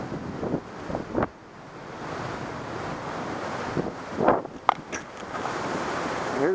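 Wind blows steadily outdoors in Anchorage, Alaska, a broad rushing roar buffeting the microphone, with a few louder gusts and brief rustles and no talk.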